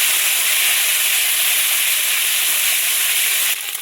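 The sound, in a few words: frying ground spice paste in a pan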